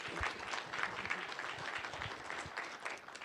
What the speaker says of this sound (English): And a round of applause for Alexandra.